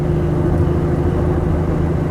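A Jaguar XK150 4.2 coupe engine drones steadily through its induction, a continuous mid-low hum with a stable tone and no break, close and fairly loud.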